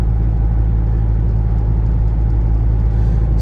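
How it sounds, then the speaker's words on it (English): Steady low rumble of a Chevrolet Colorado Bison pickup cruising down the road, exhaust and engine drone mixed with road noise heard from inside the cab, constant and unbroken, no speech. "You'll probably hear the little bit of exhaust note on"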